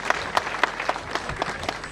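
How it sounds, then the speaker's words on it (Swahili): An audience applauds for Chipukizi, a young person being praised at a gathering; steady clapping with sharp individual claps runs through the clip, close and moderately loud. "Tupigeni Chipukizi makofi"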